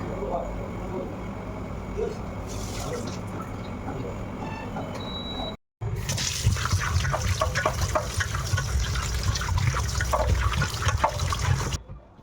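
Tap water runs steadily in a home kitchen as raw chicken is washed, a continuous wet rush that cuts out briefly midway and then returns fuller and louder before stopping.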